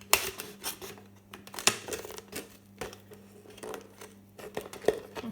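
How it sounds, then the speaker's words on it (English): Scissors snip and crunch through a thin plastic bottle in a quick irregular series of close, sharp cuts and crinkles, moderately quiet with no talking. "Scissors from school."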